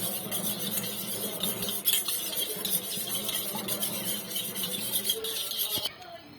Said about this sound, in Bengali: এবার এই ডিমটার মধ্যে একটু লবণ দিয়ে দেবো স্বাদ মতো। ভালো করে নেড়ে চেড়ে নেবো।